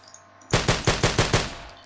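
Six rapid, sharp Ruger MKIII handgun shots ring out in the zombie game No More Room In Hell, evenly spaced and loud, with no one talking.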